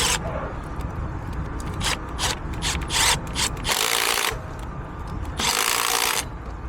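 Ratchet spanner driving gasket bolts on a DAF truck engine: rapid close clicking pawl strokes in short bursts, interrupted by two louder rushes of hiss-like noise, without speech.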